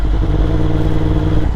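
Yamaha MT-10 2023 motorcycle fitted with an Akrapovic full titanium exhaust, riding on cloudy weather, with a loud, steady engine drone and deep exhaust rumble close up and no voices.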